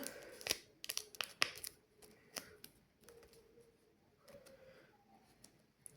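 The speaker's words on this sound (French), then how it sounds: "Attendez, mon ciseau, regardez, il coupe." Scissors snipping through material at close range, a quick cluster of sharp cuts early on followed by softer, sparser snips and faint handling noises.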